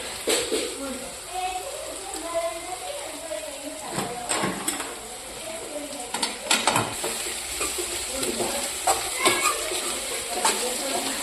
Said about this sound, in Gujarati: ડુંગળીનો વઘાર કર્યો લીલી ડુંગળી